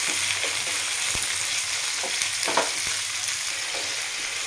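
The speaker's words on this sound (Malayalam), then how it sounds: "മുന്തിരിങ്ങ ഒന്ന് വഴറ്റുക." Chopped grapes sautéing in hot oil with curry leaves for a pickle, a steady close sizzle broken by a few sharp clicks of a spoon stirring against the pan.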